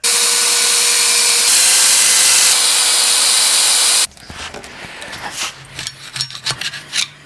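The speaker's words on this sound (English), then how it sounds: "we're gonna do a little bit more sanding, trying to get some more pitting out of here" Sanding a metal axle housing from a Land Rover one-ton axle swap to remove pitting, a loud steady abrasive rasp for about four seconds, then stopping into quieter irregular scraping and rubbing.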